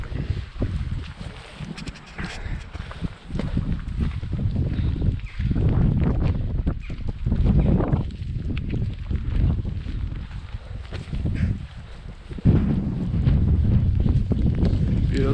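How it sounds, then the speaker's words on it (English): Strong wind buffets the microphone in loud, continuous low rumbling gusts that swell and dip throughout, with no voices, on an Irish hillside. "Windy, windy, windy."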